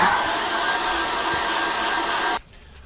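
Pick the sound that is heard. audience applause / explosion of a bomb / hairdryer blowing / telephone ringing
hairdryer blowing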